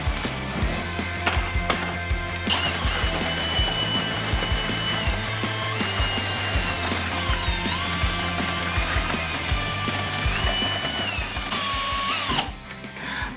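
A power drill running on low speed whirs steadily while mixing waterproofing compound for basement walls, its pitch dipping and rising under load, with scraping and clattering from the mixing paddle, close and alone before cutting off near the end.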